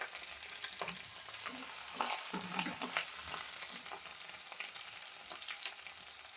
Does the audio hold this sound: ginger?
yes